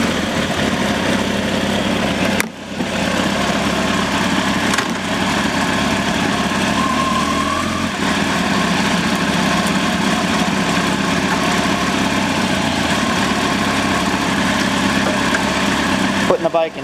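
A motorcycle engine idles steadily and close by in neutral, a continuous low rumbling drone with a couple of brief dips, while someone talks over it.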